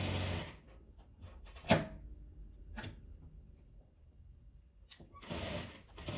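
A sewing machine stitches a felt wreath base in short, quiet bursts of mechanical whirring and ticking separated by near-silent pauses, with a few small clicks and handling noises close by.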